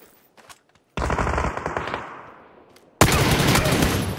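Bursts of automatic gunfire from PUBG on the new Sanhok map, a loud sustained volley after a short pause, then a second heavy, close burst, with no voices over it.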